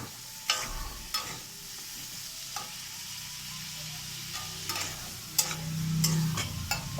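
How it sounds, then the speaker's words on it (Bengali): Potatoes and shrimp sizzle softly in a pan with occasional sharp scrapes and clinks of a utensil stirring, no voices. "আলু চিংড়ি দুটোই ভাজা হবে"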